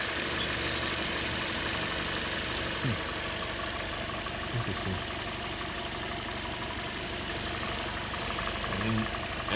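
A car engine idles with a steady, continuous mid-pitched hum, heard close up. A few short voice sounds and faint clicks break in over it.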